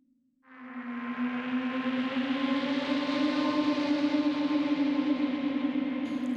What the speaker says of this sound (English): The pad sound is from the Scope pack and it's called Ghosts.